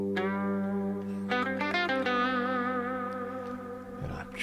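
An electric guitar runs through a pitch shifter into a looper, then a delay and a plex reverb, giving sustained, wavering layered notes that glide and shimmer with echoing tails, played alone without talk.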